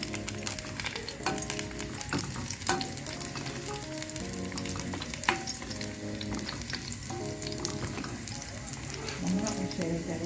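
Garlic frying in a pan beside spinach and onion while the cooks watch that it doesn't burn, a constant crackling sizzle broken by spatula taps and stirring scrapes, with voices in the background.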